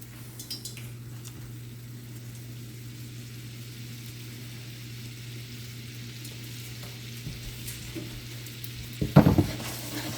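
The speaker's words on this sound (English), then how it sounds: "I'm going to turn the heat up and get it up to a nice aggressive simmer." Fish piccata sauce simmers hard in a pan, giving a steady bubbling sizzle close by, with a few utensil scrapes and a louder clatter near the end.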